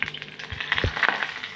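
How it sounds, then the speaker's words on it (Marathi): Mustard seeds and curry leaves sizzle briefly in hot oil for a chutney tempering, a close crackling hiss with small pops, no voices. "पॅन मध्ये तेल गरम करून घेतले, मोहरी टाकूया।"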